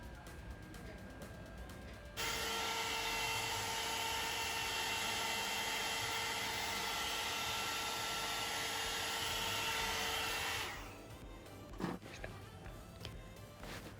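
A salon-style hot air brush blow-dries a section of hair, its steady whirring rush starting abruptly, holding close and loud for about eight seconds, then cutting off into quiet handling noises.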